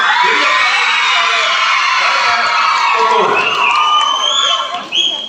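A crowd of children cheers and claps loudly for prize winners at the Prathibha Karanji school program at Little Flower School, Darbe, Puttur. The shouts and whoops stay close and continuous, then fade near the end.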